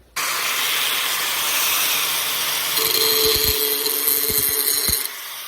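A Metabo 4-1/2 inch angle grinder (G12SR4) grinds the ridges off a spare piece of rebar, a steady loud whine running throughout, rising in pitch and pressure as the disc bites for about two seconds before easing off.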